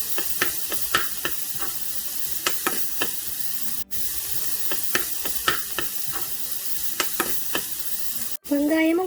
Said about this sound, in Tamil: இதில் நான் வெங்காயத்தையும் கருவேப்பிலையும் சேர்த்து வதக்குறேன்.